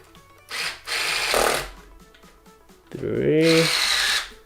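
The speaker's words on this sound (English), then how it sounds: "So now let me go ahead and grab my electric screwdriver." An electric screwdriver drives screws into a hoverboard during a wheel change, giving two close whirring bursts separated by a short pause. The second burst winds up in pitch as the screw tightens.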